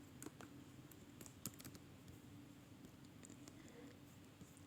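Keys clatter on a computer keyboard as an email address is entered, a light scattered tapping that runs steadily over a faint, constant background hum with no speech.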